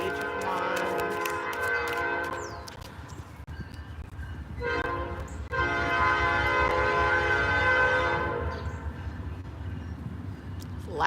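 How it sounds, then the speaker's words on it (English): A loud train passes near an outdoor garden, and its long, sustained horn blasts sound over the continuous rumble of the rail cars, which stays strong for the whole stretch. "loud train."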